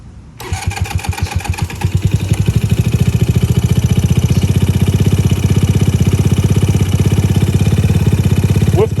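A custom Honda Ruckus scooter with a GY6 engine cranks and catches, then settles into a loud, steady, rapidly pulsing idle heard up close.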